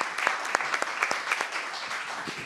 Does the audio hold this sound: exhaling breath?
no